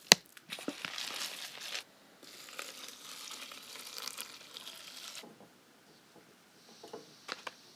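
Oats cooking over a small camp stove in a hut on a bike tour, giving a crackling, sizzling sound in bursts that come close and moderately loud, then fade to quiet near the end.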